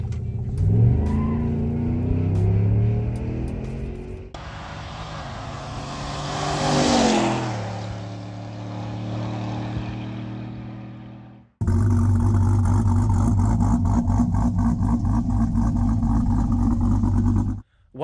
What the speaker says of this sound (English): It's a lot smoother, that's for damn sure. And it's a really good exhaust.